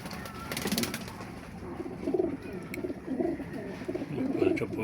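Domestic pigeons, including Mulawin and Tipler breeds, coo close by in a loft, with a rolling coo repeating about once a second over a soft background and a brief rustle near the start.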